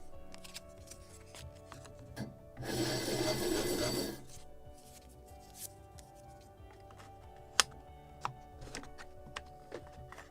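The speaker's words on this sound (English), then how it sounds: "So I need to sand edges." Sandpaper rubs the edges of a wooden deck on a Model Shipways kit of the 1776 gunboat Philadelphia, giving one steady scraping burst of about a second and a half, with scattered small clicks and taps of handling around it.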